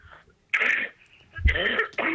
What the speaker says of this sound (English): He can cough.